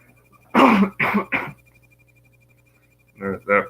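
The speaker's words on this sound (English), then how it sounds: "I apologize for the cough." Three harsh coughs in quick succession, then a pause and two more throat-clearing coughs, close and distinct against a quiet hum.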